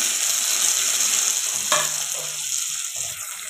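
Chopped tomato hits a hot pan and fries with a steady hiss and crackle, moderately loud. A brief clatter sounds partway through, and there is no speech.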